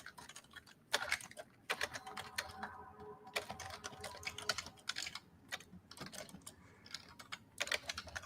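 Fast, uneven typing on a computer keyboard, clicking in bursts and short runs with brief pauses, close and fairly quiet, with no one talking.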